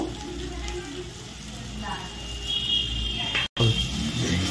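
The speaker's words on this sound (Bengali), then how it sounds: "একটু নেড়ে ছেড়ে দিলাম, একটু ভাজা হোক।" Potatoes and onions sizzle in a pan while cooking aloo dum, a steady close frying hiss with a brief cut near the end and some faint background voice.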